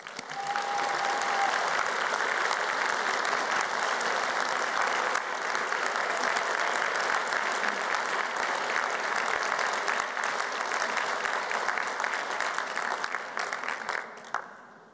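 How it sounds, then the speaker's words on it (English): A large graduation audience at an Open University degree ceremony in Glasgow gives sustained, dense applause for family and friends, steady and loud for about fourteen seconds before tapering off at the end. "let's give them a tumultuous round of applause"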